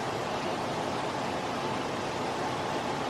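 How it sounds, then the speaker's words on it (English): Water runs constantly in an indoor athletic space, a smooth, unbroken hiss of steady white-noise-like flow with no other sounds. "the calming white noise of that constant water running"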